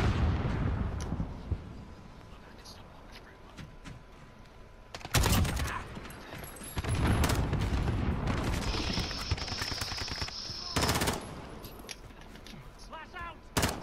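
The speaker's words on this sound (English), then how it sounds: "Precision airstrike ready." Heavy explosions from a precision airstrike in a video game, with several loud booming blasts that break through ongoing gunfire and battle noise, and voices talking in between.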